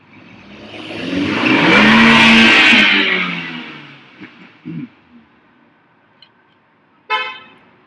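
A car passes close by with a loud rising and falling engine roar that peaks and fades over a few seconds, followed by faint knocks and a short sharp burst near the end, with no voices.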